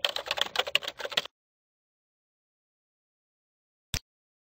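Computer keyboard typed in a quick run of keystrokes for about a second while entering a server start command, then silence and one sharp final tap.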